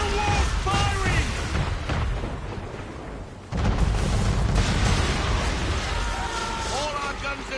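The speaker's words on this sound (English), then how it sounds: "Man of war's firing!" Warship cannons boom and rumble during a naval battle in Assassin's Creed 3, heavy continuous blasts with a brief lull midway, under shouting voices.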